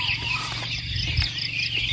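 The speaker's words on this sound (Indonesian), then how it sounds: "Itu di atas ada ayam yang berkokok ya." Wild green junglefowl and chickens cluck in hilly highland farmland during a hunting outing, with several overlapping calls at moderate distance and no talk.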